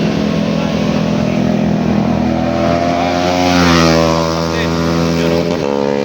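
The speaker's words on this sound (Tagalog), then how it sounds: "Big bike, another big bike." Big motorcycles racing along the Marilaque highway, engines roaring loudly and rising in pitch as they pass close by, with a voice talking over the engine noise.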